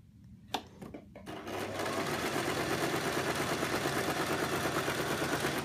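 A sewing machine runs long gathering stitches through skirt fabric for a ruffle, first a few separate clicks and thumps, then a steady fast mechanical whir that carries on to the end, close and alone.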